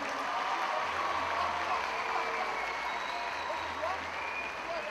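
Schoolchildren clap for elected officials at a ceremony, a dense, sustained wash of applause that holds steady throughout, with voices mingling underneath.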